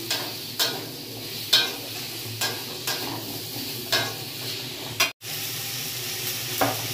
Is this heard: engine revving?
no